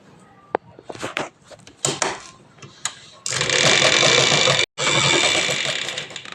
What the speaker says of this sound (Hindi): यहाँ से पूरी सिलाई मार देनी है गोल गोल